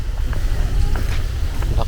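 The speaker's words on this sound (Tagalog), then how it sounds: "Ang lakas ng hangin" Strong wind buffeting the microphone with a low, steady roar during island hopping in Bohol, Philippines, while faint voices and scattered knocks come through underneath.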